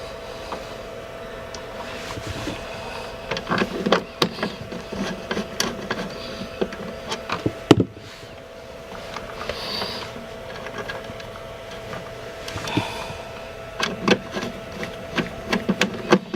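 A wire connection is tightened down on a Powermax Boondocker 1260HW converter installed in a 2012 Airstream. Close, sharp mechanical clicks and ratcheting taps come in irregular clusters over a faint steady hum, with no talking.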